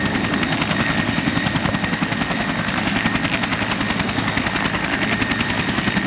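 A Yak-55 aerobatic plane flying slowly over the top of a manoeuvre at the Lethbridge International Airshow, its propeller engine a loud, steady, pulsing drone throughout with no voices.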